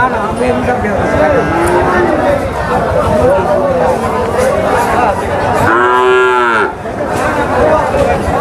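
A native Bangladeshi cow moos loudly nearby, a drawn-out low call, amid steady crowd chatter and cattle market hubbub.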